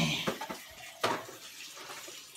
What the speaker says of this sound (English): You just have to put some water in the can and rinse it out.